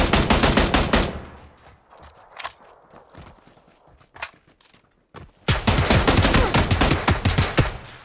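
M16 rifle fire in PUBG: a loud, close volley of rapid shots, then a gap with a few isolated cracks, then another sustained burst of fire.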